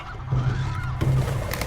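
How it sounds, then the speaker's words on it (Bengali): Chickens squaring off in a cockfight give harsh, honking fowl cries in two bursts over a steady low hum, fairly loud and close with no talk. "বলো দারায়ুষ, কোন মুরগিটা জিতবে?"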